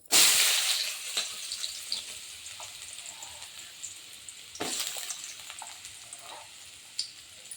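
Radish greens drop into hot oil in a pan over a lowered flame, setting off a loud, close sizzle that fades. A second burst of hissing and crackling follows a few seconds later.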